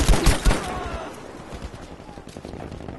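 Machine gun fire bursts from a bunker nest in the video game Battlefield 5, a loud rapid volley at the start that quickly gives way to fainter scattered shots and ambient battle noise.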